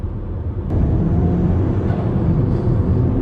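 A 335bhp Ford Fiesta ST HP300 on the road, its turbo wastegate hissing and fluttering over a loud, steady engine drone, with a sharp jump in volume as the sound starts and continues close by.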